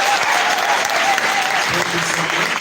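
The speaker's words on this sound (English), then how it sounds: "Can you clap for us?" An excited crowd at an AIM Global Saturday recognition event in Zambia claps loudly in thick, sustained applause, with a few voices mixed in.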